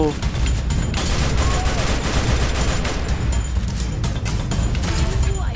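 Dense, rapid gunfire and explosive blasts from a video game, loud and continuous, with layered game sound effects throughout.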